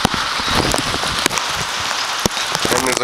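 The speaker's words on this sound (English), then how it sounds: "Out in the rain." Rain falls steadily on surfaces outdoors in a park in Steinbach, a dense close patter with scattered louder drops and brief faint voices in the background.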